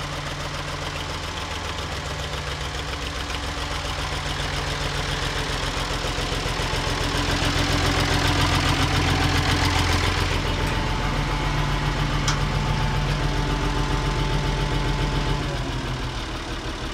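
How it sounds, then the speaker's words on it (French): Ford 550 tractor engine idling after an oil change, a steady close diesel knock with a fast even rhythm, slightly louder in the middle, running alone without talk. "redémarrer et laisser tourner un bon quart d'heure"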